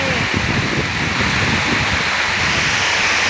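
Dense, roaring hiss of heavy rain pouring steadily, mixed with gusty wind noise on the microphone.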